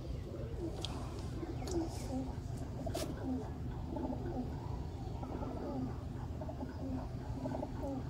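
Pigeons coo softly and repeatedly nearby, low rolling calls recurring through a steady background hum, with a few brief chirps above.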